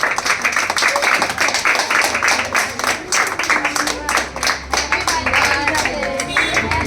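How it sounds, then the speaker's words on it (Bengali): Children clap together at a morning birthday gathering, a dense steady patter of many small hands that keeps going throughout, with voices mixed in. "হাততালি হাততালি হাততালি"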